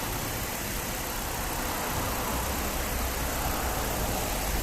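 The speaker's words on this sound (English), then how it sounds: "it's a good idea to turn the engine on and allow the heat from the engine to dry off the remaining water" An Audi's engine idles steadily after an exterior wash, a continuous low rumble with broadband hiss that holds even for nearly five seconds, with no voices.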